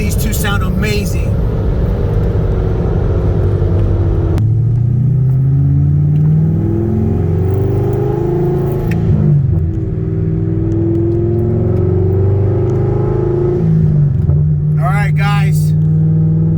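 Supercharged 2003 Ford Mustang Cobra Terminator with a 2.3 VMP supercharger and a Paxton-supercharged 2008 Corvette C6 roar loudly together through a roll race, with engine tones rising, shifting and surging throughout. A voice sounds briefly near the start and end.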